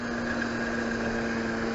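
A Honda Express moped engine idles with a steady, even hum, close and unbroken, with no voices over it.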